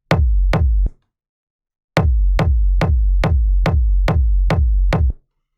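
A kick drum sample from a dark techno track, time-stretched to twice its length, thumps in a steady pulse: three deep hits, a pause, then eight more evenly spaced booming beats, loud and dry.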